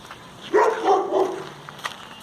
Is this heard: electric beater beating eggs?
no